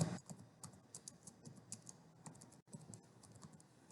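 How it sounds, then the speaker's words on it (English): Keys on a computer keyboard are tapped in a quick, soft, irregular patter of light clicks, heard close and fairly quiet, with one brief pause. "Gonna type your name"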